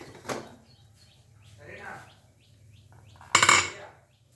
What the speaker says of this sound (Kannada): ಸ್ಟೀಮ್ ಹೋಗಿದೆ ಕುಕ್ಕರ್ ಓಪನ್ ಮಾಡ್ತಿದ್ದೀನಿ